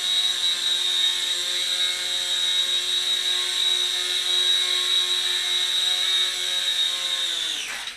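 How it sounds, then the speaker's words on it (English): An Air Hogs Star Wars Millennium Falcon two-channel toy helicopter flying in to land, a close, steady high-pitched rotor and motor whine held for several seconds before it sags and cuts off sharply at the end. "let's see if I can take it in for a landing, which can be pretty tricky with a 2-channel helicopter"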